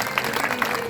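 Short burst of clapping from a crowd at a Shrimad Bhagwat Katha gathering in Sekhupur Darauli, welcoming a visiting sadhvi. Scattered, uneven claps sound over a roomy background hum.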